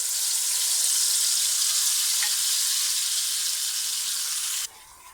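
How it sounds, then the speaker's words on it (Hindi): Finely ground masala paste frying in hot oil in a kadai, a close, steady hiss and sizzle that holds evenly, then drops abruptly quieter just before the end. "यहाँ पे हमारी कढ़ाई में ऑयल गर्म हो चुका है। इसमें अब हम जो मिसाला हमने ग्राइंड किया था वो डाल दिया मैंने।"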